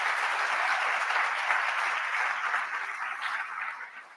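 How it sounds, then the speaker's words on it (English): Sustained applause from an audience at a town hall conversation event with a congresswoman, steady and dense throughout before tapering off at the end, with no talk over it. "let's give them a round of applause"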